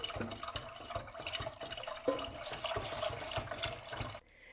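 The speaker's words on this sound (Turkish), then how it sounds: "Şimdi çorbamın suyunu veriyorum." Water pours steadily into a soup pot of minced-meat soup on an unlit stove, a continuous close splashing that stops abruptly near the end.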